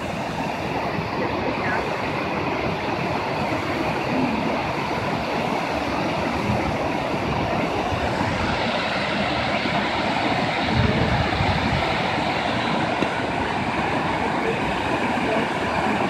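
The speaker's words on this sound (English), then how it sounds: "here's the Sawmill River, the waterfall" A steady, broad rush of the Sawmill River waterfall at the Montague Bookmill, loud and continuous throughout with no pauses.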